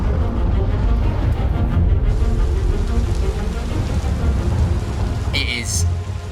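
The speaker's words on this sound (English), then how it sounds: "A huge storm." Heavy storm on the planet Pyro 1 in the Star Citizen video game: steady, dense rain with low rumbling thunder filling the background throughout, a brief hissing burst near the end, with no speech.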